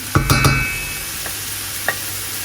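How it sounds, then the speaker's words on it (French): Chicken with garlic and onion being stirred in a frying pan over a soft steady sizzle, with a few close scraping strokes of a utensil at the start and light knocks later. "On mélange bien."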